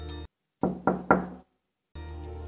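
Three firm knocks on a front door, close and distinct with short decaying echoes, set between stretches of a low sustained musical drone.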